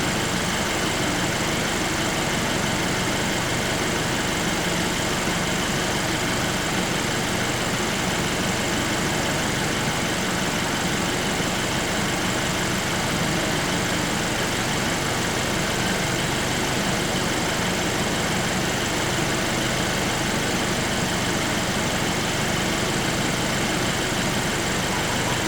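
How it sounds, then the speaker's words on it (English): A 2013 Kia Optima engine idles steadily, a constant low rumble with a broad hum that holds unchanged for the whole stretch, loud and close, with no voices. "We can hear a little bit of a change in the tone from the engine"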